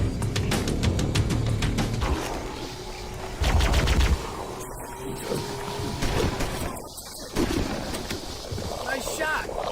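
Gunfire rattles in the video game Halo: Combat Evolved, with bursts of rapid shots and sharp cracks mixed with other battle effects, some louder and nearer, some fainter.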